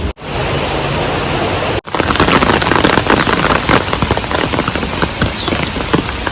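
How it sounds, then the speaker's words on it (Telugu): Heavy rain pours steadily while someone walks out under an umbrella to a hibiscus plant, a dense close hiss with pattering drops, briefly cut near the start and continuing alone throughout. "బాగా పడుతుంది వర్షం అయితే."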